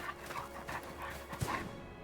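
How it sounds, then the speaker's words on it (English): A dog in the video game Visions of Mana pants in quick, rhythmic breaths with a small whine near the end, close and clear over a low game backdrop, with no speech. "Dog."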